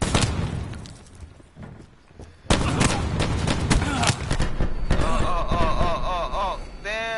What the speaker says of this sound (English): they threw fireworks at me